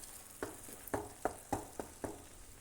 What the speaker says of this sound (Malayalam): ഇത് പാനിൽ നിന്ന് വിട്ട് വരുന്നത് വരെ ഒന്ന് ഇളക്കി കൊടുത്തുകൊണ്ടിരിക്കുക